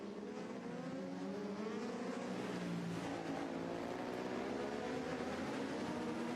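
Honda and Suzuki superbikes race side by side down the finishing straight at Cadwell Park, a loud sustained high-revving engine roar with shifting pitch and no pauses throughout.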